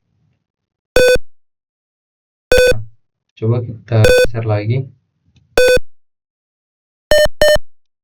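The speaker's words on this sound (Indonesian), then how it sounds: "indikator suaranya bunyi sekali, itu dengan bunyi beep" Sharp electronic beeps from a gas detector's sound indicator ring out singly at regular intervals, loud and close, with someone speaking briefly between them.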